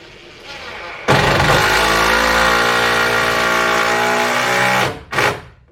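A loud power tool, likely an impact driver, runs steadily for about four seconds during a barn-to-house ceiling build, then stops and gives one short final burst, with no talking.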